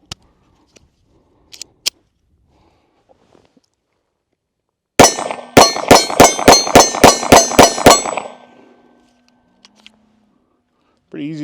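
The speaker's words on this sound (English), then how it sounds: "let's get these mags loaded up, take some shots with it, and see how it shoots" Smith & Wesson Bodyguard 2.0 pistol fired in a rapid string of about ten sharp, loud, evenly spaced shots, with a few faint clicks beforehand and silence after.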